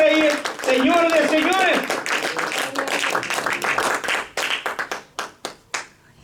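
A church congregation gives a loud round of applause, starting under a preacher's voice and a shout, then thinning into scattered, distinct individual claps as it dies away.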